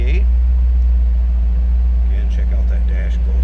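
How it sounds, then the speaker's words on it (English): Steady low rumble from a 1984 Chevrolet Camaro Z/28's 305 V8, idling loud and close in a continuous drone, with a person talking over it. "A little rumble out of that V8."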